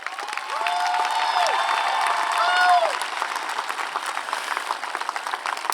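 Quincy High School graduation crowd applauding and cheering: sustained loud clapping with whoops and whistles rising over the hall, holding steady for several seconds before tapering.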